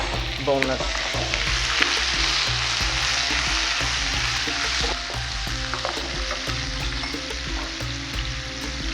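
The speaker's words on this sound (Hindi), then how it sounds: "हमने लहसुन का पेस्ट है 1 टीस्पून। इसको हम लाइट ब्राउन करेंगे, बिल्कुल लाइट।" Garlic paste and boneless chicken frying in a pan for chicken makhni handi, a loud continuous sizzle with crackling pops and occasional stirring scrapes, close up with no talk.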